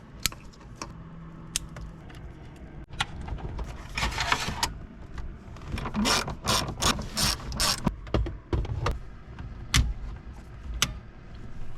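Close ratchet clicks come in short rapid bursts and scattered single ticks as bolts are tightened on the receiver bracket in a Jeep Grand Cherokee ZJ, with a busier cluster of clicking in the middle.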